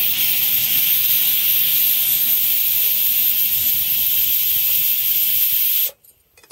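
Steam hisses steadily and loudly from a pressure cooker's vent, a dense high broadband rush holding for about six seconds before cutting off abruptly into near silence.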